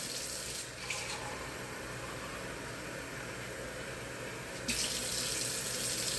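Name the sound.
tap water filling cups of water for stew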